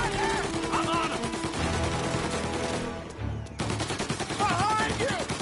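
Rapid automatic gunfire from the video game Mafia Definitive Edition, dense bursts of shots rattling almost continuously under a music bed with a short lull partway through, while voices shout over the fight.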